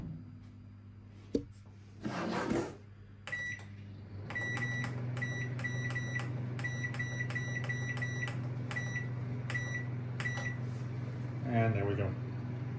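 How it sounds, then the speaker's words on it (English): A microwave oven cooking potatoes in a home kitchen, a steady low hum from the running oven with clattering and a few soft knocks as it is closed and started, plus a faint burst of talk near the end. "So they're off for 7 minutes in the microwave."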